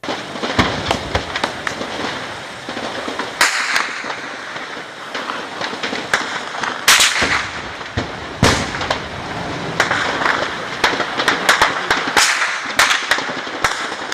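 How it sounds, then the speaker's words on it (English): Dense, continuous volleys of sharp gunshots crackle at close and middle distance during a siege at a palace in Uganda, with many overlapping bangs and rapid bursts over a steady noisy background. "there are many loud gunshots that are going on back here"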